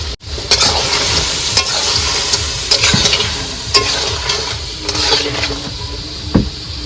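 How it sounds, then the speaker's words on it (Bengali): Fried potatoes tipped into a crab curry cooking on a boat in the Sundarbans, stirred with a steady loud sizzle and repeated scraping strokes of a spoon against the pot, close and without talk. "এবার কিন্তু ভেজে রাখা আলুটা দিয়ে দেবো"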